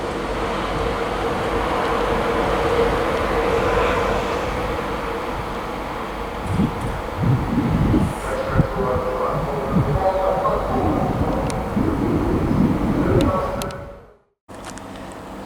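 A Class 91 electric locomotive rumbles through Grantham station on the East Coast Main Line, a loud sustained low drone with rhythmic wheel thumps building midway before cutting off abruptly near the end.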